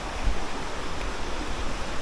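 Steady broadband rush of a waterfall in a rocky nature spot near Murcia, Negros Island Region, Philippines, continuous and moderately loud with no voices.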